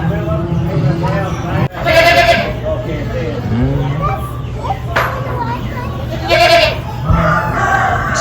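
Big billy goats and young goats in a stockyard pen bleat several times near at hand, calls overlapping with people talking and background noise.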